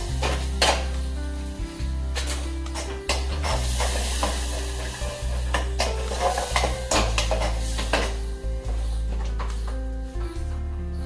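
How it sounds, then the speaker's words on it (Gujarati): A spoon stirs gravy in a metal cooking pot with repeated scraping clinks and knocks over a steady hiss of simmering and sizzling, fairly close and loud. "જે ગ્રેવી બનાવેલી છે તે. અને હવે આપણે હલાવી લઈશું."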